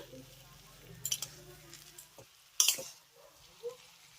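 Ghee being stirred into semolina halwa in a pan, heard as soft spoon scraping with two sharper clattering strokes standing out against an otherwise quiet background.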